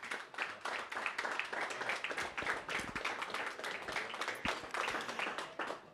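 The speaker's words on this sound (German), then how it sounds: "kurzer Applaus auch für den Präsidenten" Brief applause for the club president at an Eintracht fan talk event, scattered hands clapping in a fairly sparse, uneven patter, quiet and somewhat distant, lasting a few seconds.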